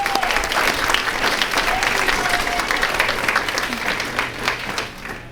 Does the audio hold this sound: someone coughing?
no